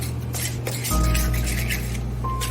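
Spoon scraping and knocking against a bowl while stirring potato latke batter with flour, a steady rubbing clatter with faint clinks, close and fairly quiet.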